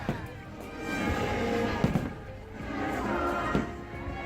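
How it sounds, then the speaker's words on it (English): Fireworks show at Disney World with bursts erupting all around, a continuous loud rumble of explosions with a few sharper thuds, fairly distant and filling the surroundings, with crowd murmur mixed in. "Like everywhere 360 fireworks happening."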